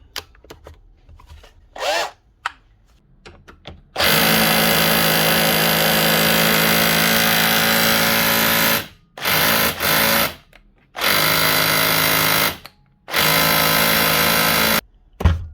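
An old Bosch GBH 24 VRE 24-volt cordless SDS hammer drill roars close by in several long, loud bursts, stopping briefly between runs, with a few quieter knocks before it starts.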